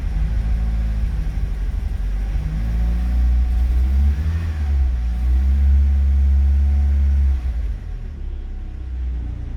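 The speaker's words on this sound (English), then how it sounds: "Yeah, it's misfiring" A Renault Twingo Mk1 engine runs with a misfire, a close, steady low rumble with a slightly uneven pulse that carries on alone for about ten seconds.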